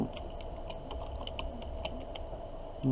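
Keys on a computer keyboard are typed at a quick, steady pace with light clicks at close range, entering class details into an online classroom form, with no talking.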